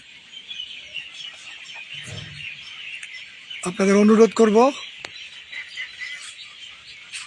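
Migratory birds call faintly in the background of a bird sanctuary in Nachole with a steady high chatter, while a person speaks briefly in the middle and a short cluck sounds earlier.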